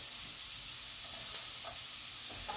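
Red pepper and onion sizzling in a pan, a soft, steady frying hiss that holds evenly throughout with faint stirring clicks near the end.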